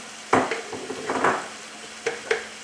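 Chopped sun-dried tomatoes stirred into a mussel sauce in a pan, a few scraping strokes of a utensil against the pan over a faint sizzle, close and quiet.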